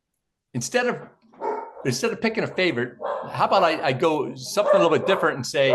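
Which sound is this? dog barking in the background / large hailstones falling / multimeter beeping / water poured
dog barking in the background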